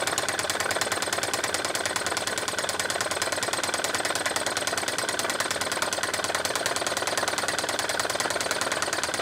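A Wilesco H 110 Stirling engine runs steadily, its rapid, even mechanical ticking and whirring continuous and close, with no voices over it.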